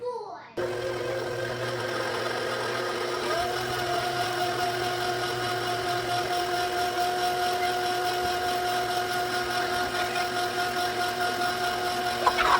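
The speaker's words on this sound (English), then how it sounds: "with the mixer speed on low, you're going to add in your 4 eggs, beating well after each one" An electric mixer runs on low speed, beating eggs into vanilla cream cheese bundt cake batter. Its steady motor whine and whir stay close and constant, with only a brief pause at the start.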